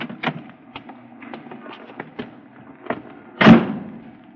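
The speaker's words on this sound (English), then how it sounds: "she opened the door for me" A cab's car door handled in an old-time radio drama sound effect: a run of small clicks and taps, then one solid, close thump near the end, with no talking.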